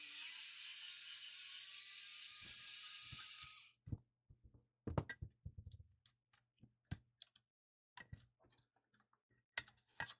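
A small screw being turned out of a defective blood pressure cuff, producing a rapid series of faint ticks and clicks close by, after a few seconds of loud steady hiss at the start.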